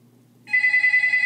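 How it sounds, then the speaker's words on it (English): A telephone starts ringing after a short quiet pause, a bright electronic trill that holds steadily and fairly loud until the end, with faint murmuring underneath beforehand. "I hear the phone ringing, so I'm going to answer this phone"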